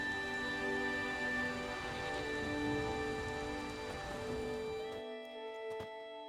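Steady rain falls in The Witcher 3: Wild Hunt, a soft, even patter under a sustained musical tone. It cuts out near the end, leaving only the tones and a few faint clicks.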